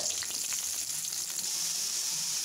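Steady, bright sizzling of onions frying in hot oil, a continuous crackle with no talking.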